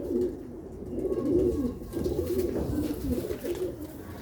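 Pigeons coo softly in a low, rolling repeated murmur, several birds close by, with no voices over them.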